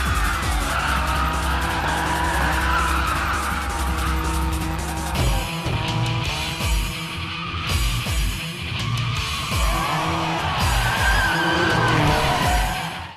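A car drifting up a parking garage in the film The Fast and the Furious: Tokyo Drift, engine roaring loud and close with repeated screeching tire squeals as it climbs, continuous and intense throughout.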